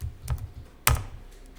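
Two crisp key presses on a computer keyboard during accounting data entry, one faint tap near the start and a sharper, louder press just under a second later, with quiet between.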